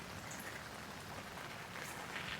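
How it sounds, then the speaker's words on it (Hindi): Rain falls in a steady, soft hiss with faint patters of drops on a surface, near a house on the Haldwani-Nainital route, quiet and continuous with no talking. "इतनी बारिश हो रही है"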